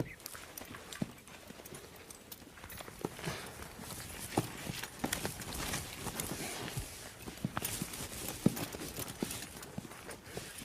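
Several horses held in a corral with a young stallion move about, their hooves sounding in a steady, fairly faint clip-clop of overlapping footsteps, with no voices over them.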